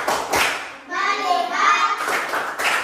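Children in a classroom perform a rhythmic focus clap, short bursts of hand claps at the start and end with a chanted group voice in between, close and lively.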